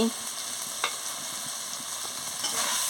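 A ridge gourd and poppy seed curry seasoned with chili powder is stirred in a hot pan, a close, steady frying sizzle with a few sharp scrapes of the spoon; no talking.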